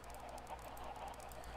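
Chickens cluck and squawk faintly in the video game Minecraft, a soft, continuous run of bird calls with no talking.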